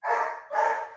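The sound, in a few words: dogs barking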